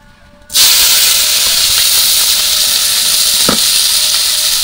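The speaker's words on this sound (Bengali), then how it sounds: "আমি চিংড়ি মাছগুলো কড়াইতে দিয়ে দেবো।" Prawns drop into hot oil in a kadai and set off a sudden loud hiss that settles into a strong, steady sizzle, with one brief clatter partway through.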